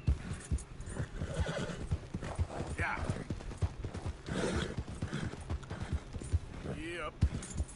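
Hooves clip-clop in a steady trotting rhythm while a horse whinnies and snorts in Red Dead Redemption 2, with a person talking over the sounds.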